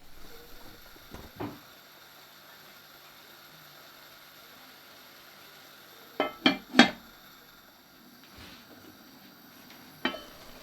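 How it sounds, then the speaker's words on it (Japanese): A lidded pan of morel mushrooms over high heat gives a few sharp metallic clanks of lid and pan, one early, a cluster near the middle and one at the end, with near silence between. "火を強火にして蓋をして火を入れていきます"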